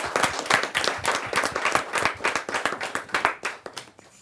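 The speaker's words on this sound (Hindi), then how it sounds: "जोरदार ताली के साथ हम उनका स्वागत।" Audience clapping at an evening gathering of poetry, shayari and humour, greeting a guest onstage: a steady run of distinct, fairly close hand claps lasting about four seconds and slowly thinning toward the end.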